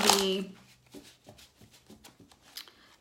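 Tarot cards riffle and slap in a burst, then a run of soft, irregular shuffling taps follows, close by.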